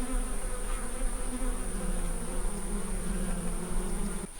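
Wild bees swarm around a honey-filled hollow in a tree, a dense, steady, close buzzing drone that holds without a break, with no voices.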